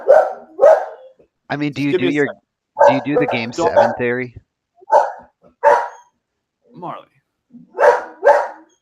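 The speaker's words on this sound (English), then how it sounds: "That's a dog just going for a walk." A dog out on a walk barks several times in short separate yaps, close by and loud, mixed in with people talking.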